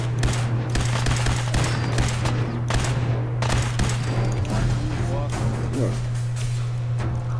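Rapid bursts of gunfire in Fallout 4, dense repeated shots throughout over a low steady hum, with a voice talking over the shooting.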